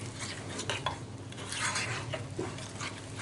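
A spoon stirs stiff cauliflower pakora batter in a bowl, giving close, continuous wet scraping and clinking with uneven rhythm and no voices.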